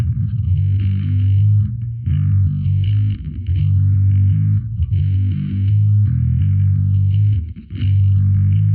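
An electric guitar played through heavy overdrive distortion and then a phaser pedal gives a thick sustained low chord with a slow sweeping whoosh that rises and falls in repeating cycles, loud and close.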